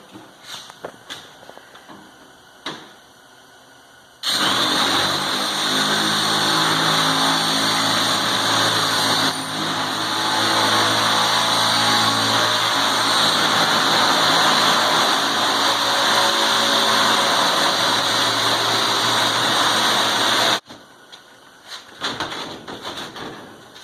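A power tool cuts sheet-metal fill-in pieces for a GTO wheel tub install. A loud, steady, harsh whine runs for about sixteen seconds, with quieter clatter and handling noises before and after.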